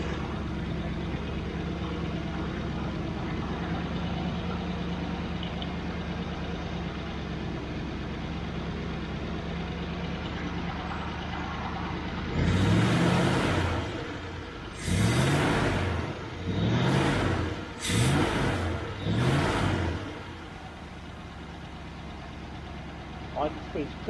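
A Triumph Stag engine idles steadily at about 900 rpm during Stromberg CD175 carburettor tuning, a low continuous rumble heard close, with a person talking over it in the later half.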